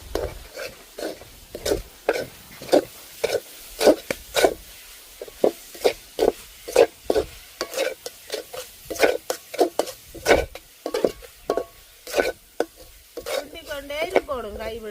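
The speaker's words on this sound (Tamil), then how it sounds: "நாங்கள் இனி தேங்காய் பூவை போட்டு கிண்டுவோம்" Grated coconut being stirred into a thick sweet mixture in a pan makes repeated rhythmic scraping strokes, loud and close, with a faint sizzle underneath and no voices.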